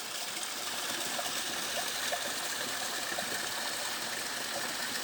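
A stream flows beneath tree ferns in Brazil's Atlantic Forest, a steady, close, unbroken rush and trickle of water, heard alone without talk.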